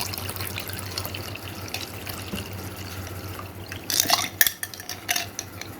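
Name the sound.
glass of cold water poured into dissolved strawberry jelly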